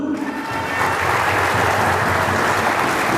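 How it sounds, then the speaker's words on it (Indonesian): A church congregation claps loudly for God during a sermon, a dense, steady round of applause that swells and holds for a few seconds without speech. "Tepuk tangan untuk Tuhan dulu."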